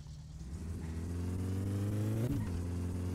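A car engine revs for a launch in the game My Summer Car, its low harmonic drone climbing steadily in pitch, then briefly dropping as it shifts and picks up again, loud and close with no voices.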